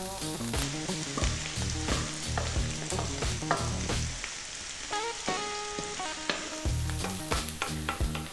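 Celery and other vegetables are stir-fried on high heat for fried rice, giving a continuous bright sizzle broken by frequent sharp clacks and scrapes of stirring, close and unaccompanied by speech.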